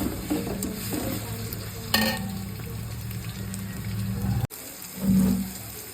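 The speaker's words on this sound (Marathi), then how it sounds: "त्यामध्ये आपण टाकू आलं लसूण पेस्ट आणि हिरवी मिरचीचं वाटण त्याला चांगलं आपण परतून घेऊ" Ginger-garlic paste and green chili paste stir-fried with reddened onion, a close, continuous sizzle with a few scrapes and clanks of the spoon, one louder knock near the end, and no talking.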